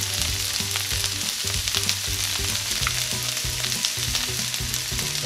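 Shredded cabbage frying in oil with curry and paprika, a dense continuous sizzle close up with stirring clatter throughout and no talking.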